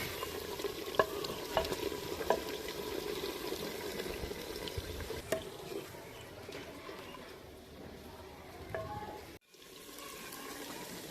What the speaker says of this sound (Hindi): लहसुन अदरक और हरी मिर्च को हम अच्छे से भून लेंगे।